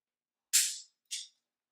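Two sharp dry-fire trigger clicks from a pistol during Mantis X marksmanship training, about half a second apart, crisp and close, the first louder, in silence with no talk.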